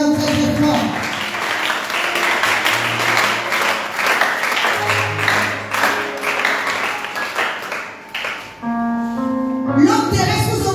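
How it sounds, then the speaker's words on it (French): A church congregation at a worship service applauds and cheers for the Lord: loud, sustained clapping and cheering under music and voices, easing briefly near the end before swelling again. "Acclame le Seigneur très très fort."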